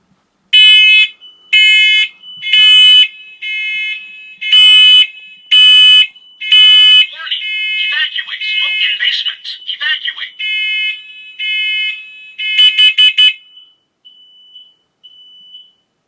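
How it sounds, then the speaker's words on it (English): Interconnected smoke alarms in a house during a test, a loud steady pattern of shrill pulsed beeps, then a stretch of jumbled overlapping alarm tones as other units join, returning to rhythmic beeps before falling quiet. "So you can see how this alarm triggered all the alarms upstairs."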